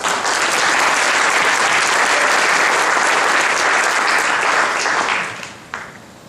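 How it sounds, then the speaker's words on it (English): Loud, sustained applause from a crowd claps steadily, then tapers off and fades out near the end. "So if you wouldn't mind giving her a round of applause"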